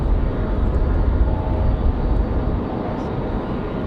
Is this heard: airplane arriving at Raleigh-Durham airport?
yes